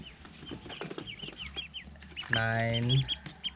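Newly hatched chicks and adult chickens on a rural farm, high repeated peeping chirps throughout with a louder close cluck or squawk midway, over a busy background of farm noise and someone talking.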